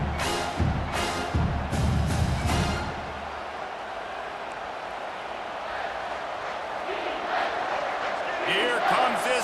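A home crowd roars at a college football game, Washington against Michigan, as the defense faces third down, with a dense, loud, sustained swell of cheering and a few sharp thumps early on.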